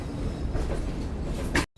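Shalimar Express, a Pakistani passenger train, rolling into the platform at Khanewal Junction, heard from on board as a steady low rumble and rattle of the carriage that cuts off abruptly.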